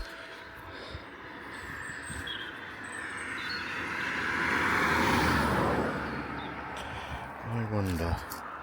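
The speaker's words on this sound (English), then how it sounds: "There's a lot of busy traffic on this road." Busy road traffic rushes by a walker on the roadside near Cowes, a continuous roar that swells as a vehicle passes close and then fades, with a brief rumbling hum near the end.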